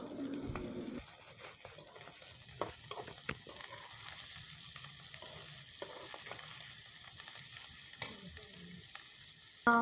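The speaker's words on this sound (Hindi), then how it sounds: "कीमा ऐड करने के बाद यानी अच्छे तरीके से फिर हमें इसे भूनना है ना" A steady sizzle of minced meat frying in a pan, with occasional scrapes and taps of a spatula stirring, close and continuous.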